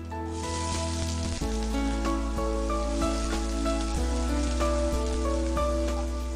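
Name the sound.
chopped onions sizzling in oil after mustard seeds pop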